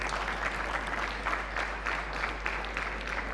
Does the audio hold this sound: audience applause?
yes